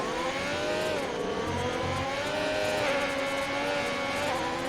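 A race car engine revs hard during lap 17 of a racing video game, a sustained high whine with rising and falling pitch under no talk, steady and loud for several seconds.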